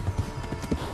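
Horse hooves clip-clop in a quick, uneven rhythm while riding in Kingdom Come: Deliverance, close and fairly loud, with no talk over them.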